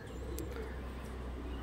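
Pet pigeons kept as breeding pairs coo softly and steadily at close range over a constant low hum, with no voices.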